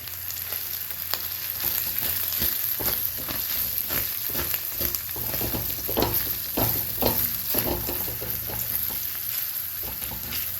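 Asafoetida (hing) frying in hot oil for a vegetarian makhana roti stuffing: a continuous, fairly loud sizzle with crackling pops and occasional stirring scrapes, steady throughout with no voices.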